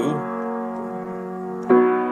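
Piano chords: a sustained Italian augmented sixth chord rings for well over a second, then a second chord is struck as it resolves outward, played alone and close.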